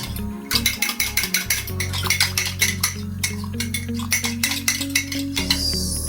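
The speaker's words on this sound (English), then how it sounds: "I'll just give that a quick mix. Make sure all the lumps are out." A spoon stirs a cocoa tea mixture with flour in a pot to break up lumps, giving repeated close, crisp clinks and scrapes in a steady rhythm over a low hum.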